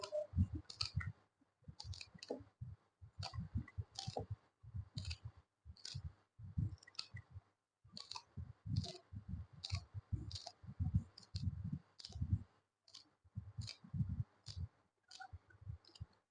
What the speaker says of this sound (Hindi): सब्ज धनिया काट रही हूँ।